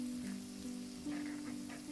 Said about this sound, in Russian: Обжариваем чеснок буквально 30 секунд, чтобы он отдал свой аромат.